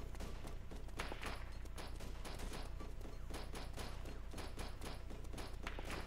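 Rapid bursts of gunfire in Arma 2 as players shoot at a man up in a crane's cab, with dense overlapping shots and thuds repeating steadily across the whole stretch, loud and close.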